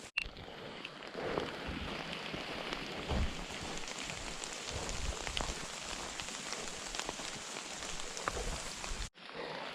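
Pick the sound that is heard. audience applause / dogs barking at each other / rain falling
rain falling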